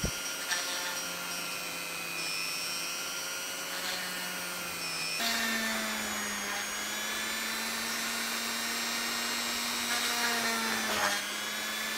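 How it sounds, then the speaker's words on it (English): A small hand drill bores slowly through a miniature Trollbloods Scattergunner leader model, giving a steady whining drone with shifting pitch and a brief jump partway through, close and continuous with no talking. "I was going really slowly and pulling the drill bit back out again"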